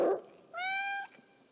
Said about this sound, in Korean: 저는 저희 고양이 실장님 푸시캣의 인사를 마지막으로 마무리 드리도록 하겠습니다